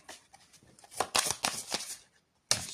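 A deck of tarot cards is shuffled by hand, giving a crisp, riffling flutter in several close bursts. It stops for a short pause before one more flurry, heard near and alone.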